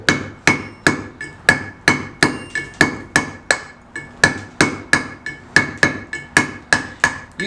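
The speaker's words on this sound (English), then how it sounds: "It's just a habit for me to claw before I flat chisel" Hammer striking a claw chisel into stone, a loud steady run of about seventeen sharp metallic clinks at an even, brisk rhythm, each ringing briefly before the next blow.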